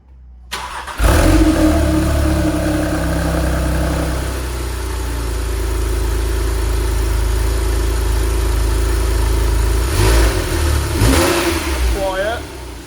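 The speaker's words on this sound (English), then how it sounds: "We're going to start it up and just test everything and make sure it all works." A Porsche 997 fitted with a retrofitted sports exhaust fires up after a brief starter crank, settling into a loud, deep, close idle with a couple of blips of the throttle near the end.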